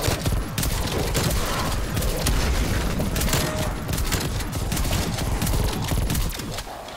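Rapid, continuous gunfire in Call of Duty Zombies, dense overlapping shots and booms filling the whole stretch, loud and close with no pause.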